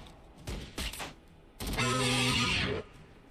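Gunfire in Warhammer 40000 Battlesector: a few sharp shot bursts followed by a longer, loud sustained volley with a whining tonal edge, ending abruptly into quiet.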